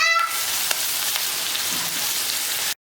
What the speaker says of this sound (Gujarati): ભીંડાને તેલમાં સાંતળી લઈએ